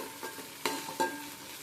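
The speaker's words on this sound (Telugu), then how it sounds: "బాగా ఏగుతా ఉంది." Ginger-garlic paste and fenugreek seeds frying in oil for a fish curry, a soft steady sizzle with a couple of sharper stirring scrapes and pops, close and fairly quiet.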